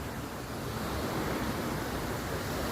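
Ocean waves wash into a bay with a continuous broadband surf roar, some wind buffeting the microphone, and no voices.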